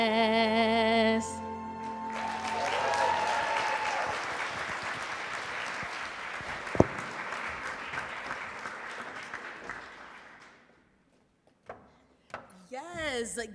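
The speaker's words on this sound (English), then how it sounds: "give a bigger round of applause for Ms. Maya." An audience applauds at a Black History Month kick-off event at Colorado State University after a performance, a steady wash of clapping that carries on for several seconds over music and voices, then dies away into brief talk.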